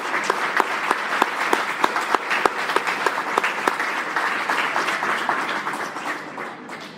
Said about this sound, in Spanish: así que nuevamente un aplauso.